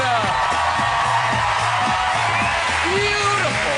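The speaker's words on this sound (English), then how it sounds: "Carry on clapping" A studio audience at a talk show claps, whoops and cheers in a loud, continuous roar while a host talks over the noise.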